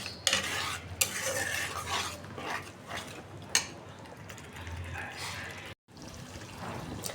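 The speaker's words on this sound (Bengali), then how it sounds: "মশলাটা এখন কষাই নিতেছি ভালোভাবে" Spice paste being stirred and sautéed in a pan for chicken roast, soft sizzling under repeated scraping and clinks of a spoon against the pan, close by, with a brief silent gap near the end.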